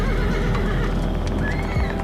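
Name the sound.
horses neighing and hooves clopping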